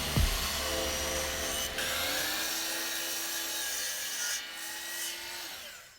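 A saw cutting wooden side panels to final size for an end table runs with a steady machine whine and gritty cutting noise, a sharp start at the beginning and the pitch shifting as the blade works through the wood.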